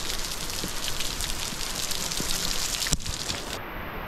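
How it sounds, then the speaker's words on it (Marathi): Waterfalls pour along a rocky mountain path at Harishchandragad, making a dense, steady rushing roar close at hand that breaks off abruptly near the end. "कातळाच्या पोटातून जाणाऱ्या वाटेवर सुद्धा धबधबे वाहत होते"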